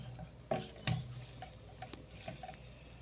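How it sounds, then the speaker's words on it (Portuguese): Beef strips in olive oil in a pan give a faint, soft sizzle, broken by a few sharp clicks and scrapes of stirring against the pan. "Vamos deixar essas iscas de carne fritar."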